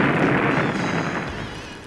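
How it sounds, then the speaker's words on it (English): A heavy burst of gunfire and explosion as a robot is blown to pieces, a dense, roaring blast that fills the whole stretch and slowly tails off. "Number 5 is blown to pieces by heavy gunfire."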